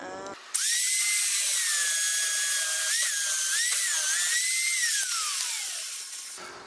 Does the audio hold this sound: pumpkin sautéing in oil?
no